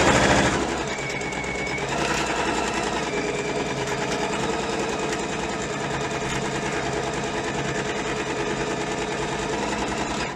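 Sewing machine running a steady back-and-forth stitch on a small fabric pouch, a continuous close mechanical whir and rapid needle rattle throughout, with no talking.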